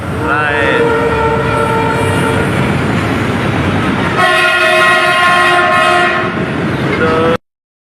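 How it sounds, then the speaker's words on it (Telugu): A passing train sounds its horn in two long, loud blasts with rich stacked tones, the second rising sharply at about four seconds, over steady rumbling rail noise near a temple site. "ఇందాక మనకి ట్రైన్ సౌండ్ కూడా ఉదో అని ఒక సౌండ్ వస్తుందన్నమాట"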